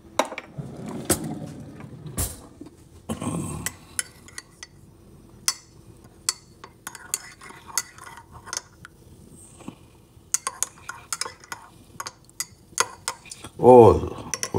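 Metal spoons clink and rattle as they are handled in a kitchen while tea is being made, in scattered sharp taps and jangles, with a louder clatter near the end.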